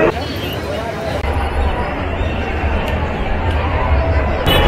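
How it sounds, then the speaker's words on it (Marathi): A large crowd queuing for darshan at a Ganpati pandal in Parel, Mumbai produces a close, continuous hubbub of overlapping voices and chatter, with no pauses throughout. "ते बघा गर्दी बघा किती आहे या दर्शनासाठी"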